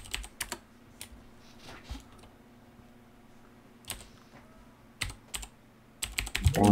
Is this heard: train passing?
no